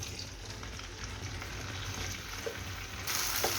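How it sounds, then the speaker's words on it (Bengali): Julienned okra (ladies finger), dusted with turmeric and salt, fries lightly in a little oil, giving a soft, continuous hiss at moderate distance that brightens slightly near the end. "এটাকে ফার্স্টে তেলে একটু হালকা ভেজে নেব।"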